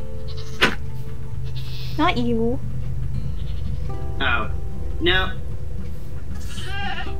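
Goats bleating in the Minecraft video game, four or five short wavering cries spaced a second or two apart over a steady background hum, with a person speaking a few brief words between them.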